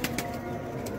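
Pigeons perched nearby coo softly in a brief outdoor moment, a few faint calls over steady background noise.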